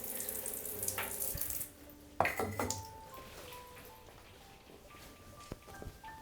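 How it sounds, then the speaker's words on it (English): Water runs from a shower in an abandoned mansion, a steady stream with clinks and knocks near the start before it settles into a quieter, continuous flow. "water is still running."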